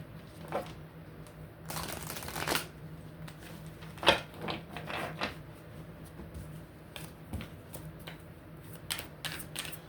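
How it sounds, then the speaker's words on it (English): Soft riffling and tapping of cards being shuffled in quick bursts, close by, over a steady low hum, with no talking. "Let's shuffle."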